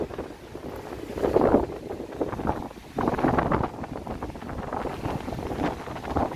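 Stormy wind buffeting a microphone on a harbourfront walk in Toronto, a continuous low rumbling roar with gusty surges and no clear speech.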